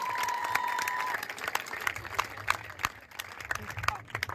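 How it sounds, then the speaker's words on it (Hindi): Audience applause for a school team receiving a third-place trophy at a district kabaddi tournament closing ceremony, scattered claps rising and falling at moderate distance, with a voice speaking over them at first. "जोरदार तालियां, अभिनंदन, स्वागत"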